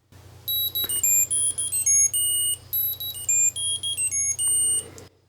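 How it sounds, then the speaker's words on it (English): An Ace Card item tracker plays its alarm: a rapid sequence of high, bright electronic beeps in shifting pitches, pulsing on and off for about five seconds over a low hum. "I'm just going to go ahead and click the alarm. Let's see how loud that is."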